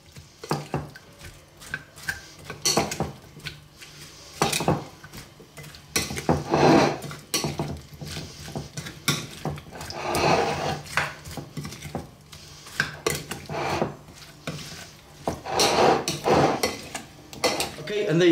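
Vegan no-mayo potato salad is mixed in a bowl, with steady clattering, scraping and knocking of a utensil against the bowl, loud and close, going on in repeated bursts throughout.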